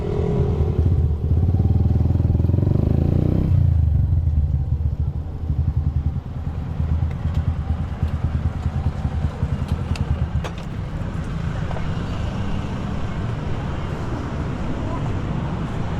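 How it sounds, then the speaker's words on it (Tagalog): Motorcycle engine that reportedly has trouble drawing in fuel, running close by with a loud low rumble that settles into a rapid, choppy idle after a few seconds, with faint clatter and no speech. "Pinapakita sa atin kasi yung motor niya daw hindi daw makahigop."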